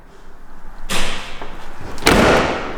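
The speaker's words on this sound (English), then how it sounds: "We might actually just open the door on this one." The front-opening door of a BMW Isetta microcar is worked in a garage, giving two loud, close clunks about a second apart over a faint background hiss.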